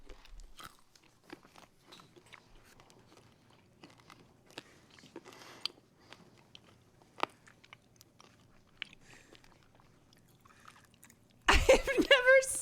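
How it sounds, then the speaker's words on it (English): Tic Tac mints being crunched and chewed at close range in a series of crisp, irregular bites, followed by a louder burst of noise at the end. "They're just menacingly crunching tic-tacs and staring into each other's eyes."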